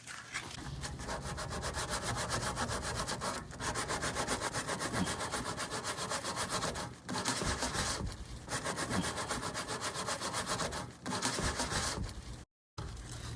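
Rhythmic rasping strokes of hand sanding on a cut RV sewer pipe, close and steady, with brief pauses between bursts of back-and-forth scraping.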